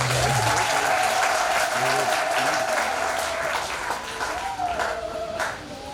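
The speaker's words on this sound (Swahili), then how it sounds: "Mpe Yesu makofi ya shangwe" A church congregation at a Sunday service applauds with dense, loud clapping from many hands. The clapping holds steady, then thins out toward the end, and a few voices call out over it.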